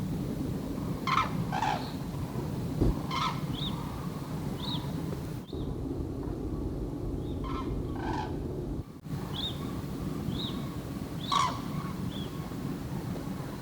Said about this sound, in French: On dirait des grues ou des cygnes. Ou des oies, peut-être des oies.